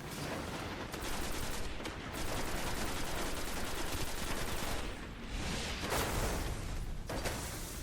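Rapid gunfire from a shootout in the video game Destiny, with dense bursts of automatic fire that keep going almost without a pause. A few short gaps and louder single shots break up the steady barrage.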